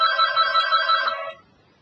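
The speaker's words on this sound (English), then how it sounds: "You guys can hear my phone ringing off the hook." Telephone bell ringing steadily and fairly loud for over a second, then cutting off into near silence; no voices alongside.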